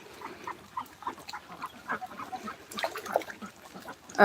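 Egg-laying ducks on a rainy-day farm quack and honk in a busy, overlapping chorus, close and moderately loud, growing louder toward the end.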